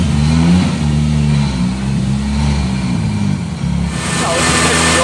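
A rear-wheel-drive Mitsubishi Lancer engine revs hard and steadily on a dyno, a loud continuous drone that shifts pitch as it climbs, with voices talking over it.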